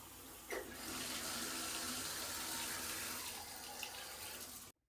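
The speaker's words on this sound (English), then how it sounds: "The shower had good water pressure." Motel shower running with strong water pressure: a steady, loud hiss of spraying water fills the whole stretch, then cuts off abruptly at the end.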